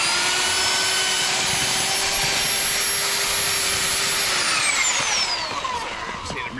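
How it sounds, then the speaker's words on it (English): A power drill bores into the ground like an auger during an irrigation install, its motor whining loud and steady for several seconds before the pitch sinks as it slows near the end. "You are gonna want to keep your drill pretty level though."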